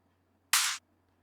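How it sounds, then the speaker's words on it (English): A single electronic clap sample for a trance drop, a short bright noisy burst alone over near silence with a faint steady hum. "I'm using a clap that sounds like this."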